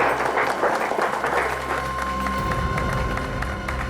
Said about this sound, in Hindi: मैं ताली बजा रहा हूँ।